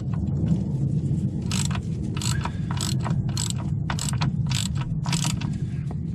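Ratchet tightening the nut on a track rod end stud fitted through the steering arm of a Kia Picanto hub carrier, giving repeated short clicking bursts over a steady low workshop rumble, close by with no talking.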